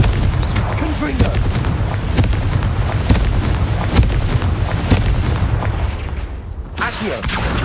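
Repeated Confringo blasting-spell explosions in Hogwarts Legacy, a loud, continuous barrage of booming impacts and crackling bursts with sharp hits roughly every second, easing briefly near the end.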